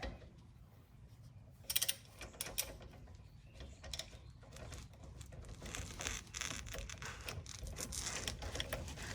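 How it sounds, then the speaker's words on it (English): A long ratchet loosens tight 10 mm rear brake bolts on a Porsche Boxster 986, giving scattered metallic clicks and clunks with a sharper burst early on over steady workshop noise. "long ratchet so you can get some torque on these things"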